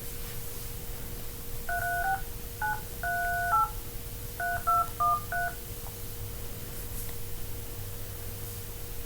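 Touch-tone telephone keypad tones dialing a call, several short beeps in uneven bursts over a steady low hum and faint background hiss.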